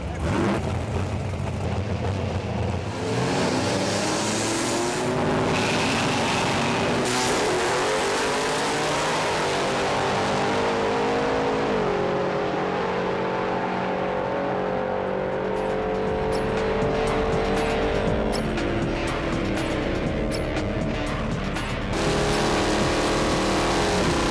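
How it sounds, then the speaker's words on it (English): An 800-horsepower, 509 cubic inch modified Chevy motor in a 1986 race car, running loud and close, with a rough idle that climbs into sustained revving and shifting engine pitch. "It's a 509 cubic inch Chevy motor, modified to 800 horsepower with crankshafts, pistons, cams, carburetors, etc."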